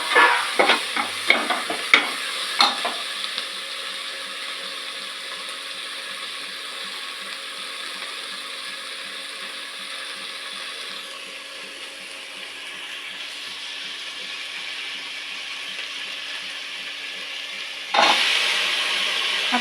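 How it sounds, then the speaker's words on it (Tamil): Onions sauté in a pan for Tamil-style sambar rice. A spoon scrapes and clatters several times at the start, then a steady close sizzle carries on alone, with a louder hiss near the end. "வெங்காயத்தை நல்லா வதக்கணும்."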